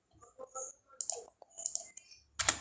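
A few quiet, scattered key clicks on a computer keyboard as a command is entered in AutoCAD 2022, sparse and close, ending with a slightly louder pair of taps.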